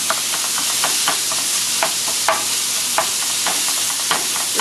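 Ground pork sizzles loudly in a pan while a spatula stirs it and breaks it apart, with repeated scraping strokes at a loose, regular rhythm over constant frying hiss, close up and free of speech.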